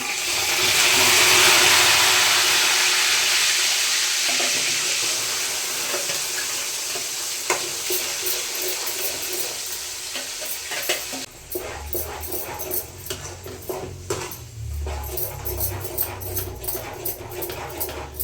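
Tomatoes fry in hot oil for a tomato chutney. A loud, steady sizzle hisses at first, then gradually thins into scattered crackles and pops as the frying settles.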